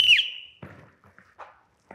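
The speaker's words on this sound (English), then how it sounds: "On my whistle." A whistle blown sharply to start a security tryout drill, one loud shrill blast at the very start that quickly fades, followed by faint scattered movement and shuffling sounds.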